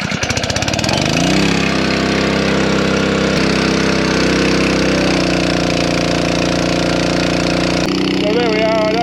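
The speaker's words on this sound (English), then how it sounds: "I don't know if you can hear the change in the engine mode as its suction started to take up" An engine-driven water pump sputters into life and settles into a loud, steady running drone that shifts slightly in tone as its suction takes up.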